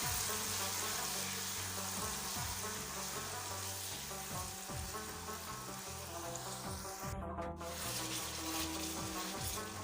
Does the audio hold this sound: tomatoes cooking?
yes